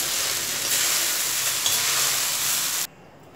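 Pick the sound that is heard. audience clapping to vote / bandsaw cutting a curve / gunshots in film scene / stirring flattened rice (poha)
stirring flattened rice (poha)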